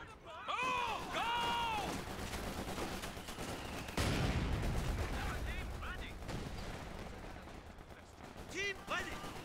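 Gunfire and artillery crash through a multiplayer real-time strategy battle between German and British forces, with bursts of shots and heavy blasts over continuous combat noise while in-game voices shout orders throughout.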